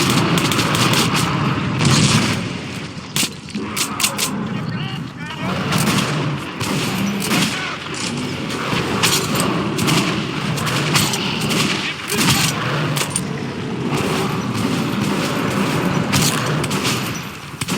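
Gunfire in the video game Metro Redux: dense, continuous bursts of shots and booms, loud and close throughout, with occasional sharp cracks standing out.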